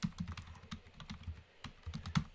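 Rapid, uneven clatter of keys on a computer keyboard, close and clear, with short pauses between bursts of typing.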